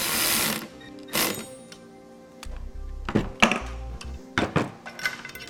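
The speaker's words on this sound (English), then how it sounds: "Now we're going to get our bolts tightened down here." Bolts on a compressor mount on a 2015 Ford F-350 Super Duty are tightened with a hand tool. Close, uneven ratcheting clicks and metallic thunks come in short bursts, with a brief hum partway through.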